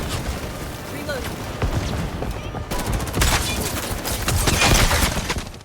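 Gunfire in the Highguard shooter game, dense rapid automatic shots crackling over a busy battlefield din, growing louder in the second half while a person talks over it.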